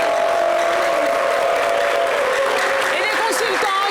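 A live studio audience at a televised football show covering the 2025 Africa Cup of Nations qualifiers gives loud, continuous applause and some cheering while a presenter keeps talking over it.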